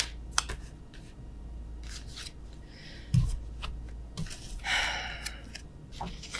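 Tarot cards flipped and handled during a reading, a few scattered dry rustles, slaps and slides close by in otherwise quiet surroundings.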